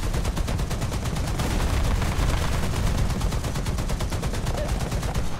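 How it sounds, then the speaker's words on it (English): Turret-mounted .50 caliber machine guns on a PBM-5A fire in War Thunder, a loud, continuous rapid burst of shots that runs unbroken throughout. "I have so many machine guns on the top of this turret."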